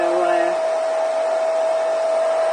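A hair dryer runs steadily and loud throughout, blowing on wet gesso brushed onto a mixed media notebook, with a constant whooshing roar and a faint tonal hum.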